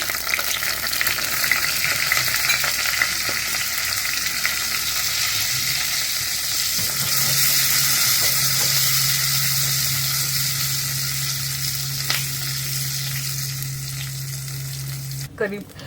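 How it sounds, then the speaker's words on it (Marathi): Loud, continuous sizzling of curry leaves, asafoetida and mustard seeds frying in hot oil for a radish salad tempering, steady and close throughout, with a low hum running beneath it. "आणि त्यात आपण आता फोडणी करणार आहोत ह्या कोशिंबिरीसाठी"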